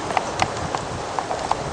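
A single horse's hooves clip-clop in a slow, uneven rhythm of about six distinct knocks near a corral on quiet grounds, with steady background hiss and distant traffic.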